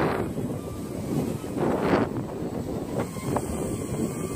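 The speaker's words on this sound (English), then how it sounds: "The wind is blowing pretty hard." Strong wind buffets the microphone outdoors while a small acro drone is flown, a loud, steady rushing roar with gusty swells throughout and no talk.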